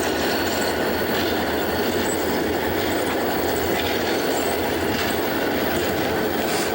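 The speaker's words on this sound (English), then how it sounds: "That humming sound you hear, the wheels hitting that cold track" Steady rumbling hum of CN Rail train wheels rolling along cold track in New Brunswick, continuous and fairly loud, with faint rhythmic clatter and occasional squeal.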